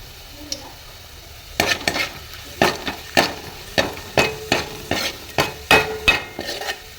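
Cumin seeds crackle and sizzle in hot oil for an egg gravy, a steady stream of sharp pops and spatters with a few louder taps and stirring clatters against the pan, close and without talk.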